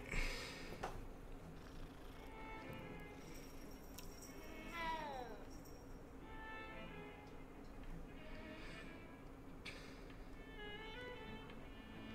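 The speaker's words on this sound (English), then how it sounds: "I'm petting the cat." A cat in the Hogwarts Legacy video game purrs softly while being petted, with a few faint meows and chirps over a low game background, quiet and continuous.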